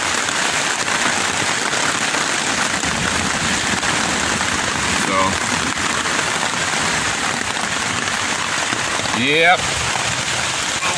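Heavy wind-driven rain drums steadily and loudly on a tent, a constant dense patter, with a person briefly speaking a couple of words.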